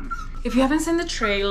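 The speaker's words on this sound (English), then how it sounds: "I'm sorry about my dog. He's just really excited for his toy." An excited dog whimpers and yips for its toy, high thin whines close by, heard under a man's continuous speech.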